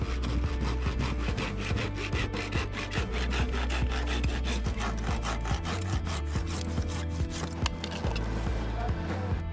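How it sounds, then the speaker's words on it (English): A hand saw cutting pipe clamped in a saw guide, a loud, rapid rhythmic rasp of back-and-forth strokes running steadily throughout, close and without talk. "you've got a saw guide here, making sure you get a dead straight cut"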